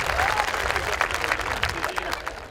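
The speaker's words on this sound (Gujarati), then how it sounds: "અને હવે તાળી પાડો તો વાંધો નહીં ભલા માણો." A crowd at a live comedy show claps steadily throughout, with loud, dense applause in the foreground and busy overlapping hand claps.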